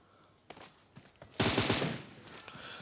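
P90 submachine gun in PUBG Mobile fires a dense, loud sustained burst at close range, preceded by a few single sharp shots and light footstep-like clicks.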